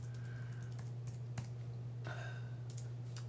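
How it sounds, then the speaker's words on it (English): A password being tapped out on a computer keyboard: a few scattered, crisp key clicks at an uneven pace over a steady low electrical hum, with no voices. "We type in a password"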